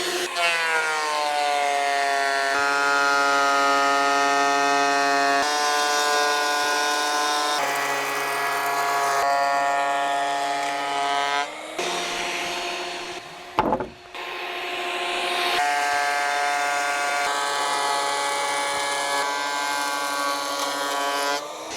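A power saw cuts wood on the roof of a 200-year-old farmhouse, a loud sustained tonal whine whose pitch shifts as the blade moves through long passes, with a brief knock partway through.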